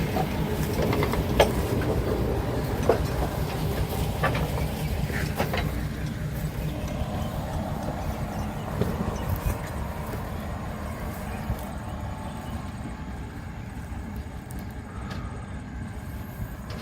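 A large locomotive rolls slowly over portable rail track, giving a steady low rumble with repeated faint clanks and creaks, continuous and fairly close throughout, with no talking.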